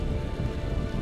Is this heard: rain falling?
yes